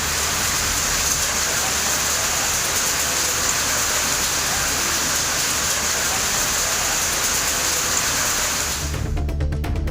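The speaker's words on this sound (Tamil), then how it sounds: "தருமபுரி மாவட்டத்தில் பாலக்கோடு, மாரண்டஹள்ளி, அரூர், பாப்பிரெட்டிப்பட்டி, நல்லம்பள்ளி உள்ளிட்ட இடங்களில் இடி மின்னலுடன் மழை பெய்தது." Steady, dense rain falling during a thunderstorm in Dharmapuri district, Tamil Nadu, a continuous loud hiss of heavy rainfall that holds unbroken for nearly ten seconds before cutting off abruptly.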